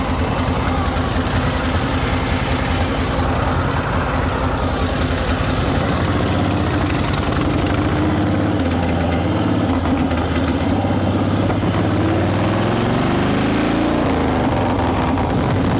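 A 1966 Harley-Davidson Shovelhead motorcycle engine runs loud and close during a ride, a constant throbbing, knocking rumble with shifting pitch and no pauses throughout.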